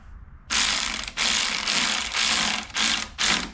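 A hand ratchet clicks rapidly while tightening the handlebar bolts on a mini bike during a handlebar swap. It runs in about six close, loud bursts separated by brief pauses, with no talking.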